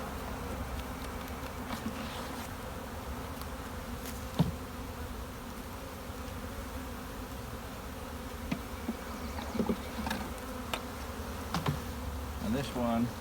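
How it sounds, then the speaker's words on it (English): Honey bees buzz around an open hive during hive splitting, a steady faint drone of many insects with occasional closer passes and light handling clicks. "we're going to put more bees into this hive"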